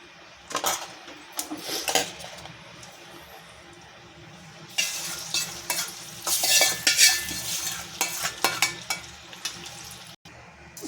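Urad dal, mustard seeds, cumin, dried red chillies and curry leaves crackle in hot oil for a mint chutney tempering, with repeated metal spoon scrapes and clinks against the pan in uneven bursts, close and moderately loud.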